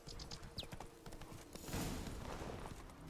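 Hooves of Roach, Geralt's horse in The Witcher video game, clip-clopping in a steady rhythm close by, with a brief whinny and some ambient game sound around them.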